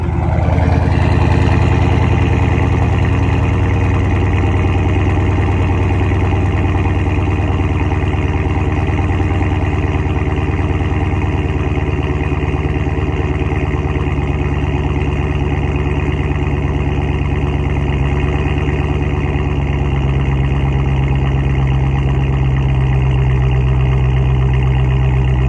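A Dodge Scat Pack 392 muscle car idles steadily and loudly after a cold start, a deep, even rumble with a slight settling of pitch after the first seconds.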